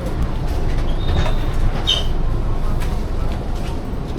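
A steady low rumble of a train in Malaysia heading to Malacca, with broadband rail noise and a couple of faint high squeals partway through, no voices.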